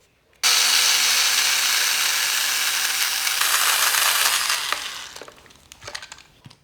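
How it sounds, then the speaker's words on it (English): An electric screwdriver whirs steadily for about four seconds, backing 2mm screws out of the bumper support of an Arrma Senton RC car, then winds down, followed by small clicks and rattles of parts being handled. "Just like the front, these are all 2mm screws. So let's take these out."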